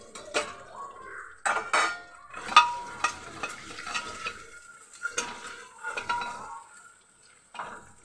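Whole spices, bay leaves, black cardamom and kasuri methi, roasting in a pan, heard as intermittent close clinks and scrapes of a spoon stirring over a faint sizzle.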